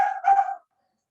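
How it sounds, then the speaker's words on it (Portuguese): A single short dog bark, close and fairly loud, cut off abruptly and followed by silence. "Olha ele latindo aqui"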